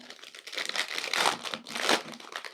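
Plastic wrapper bag of Albaba's Heart biscuits crinkling as it is torn open by hand, two loud close bursts of crackling rustle with short pauses between.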